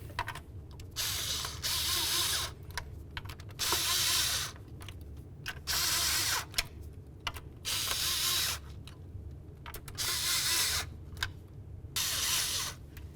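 Bolts being run in by hand tool on the upper intake of a 2009-2020 Dodge Journey, heard as repeated bursts of close ratchet clicking separated by short pauses, with no talk.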